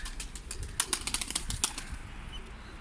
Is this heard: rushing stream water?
no